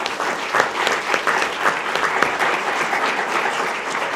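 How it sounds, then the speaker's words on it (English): Audience at a school board meeting breaks into steady, sustained applause, a dense even patter of many hands clapping throughout with no speech over it. "we can give ourselves a round of applause for this"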